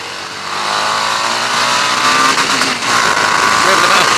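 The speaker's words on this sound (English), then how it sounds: "It revs quite quickly actually, but it does hit the rev limiter quite quickly as well." A Harley-Davidson Street 750 motorcycle engine revs hard and quickly climbs in pitch toward the rev limiter, holding near and loud with steady high-rpm buzz, wind noise mixed in.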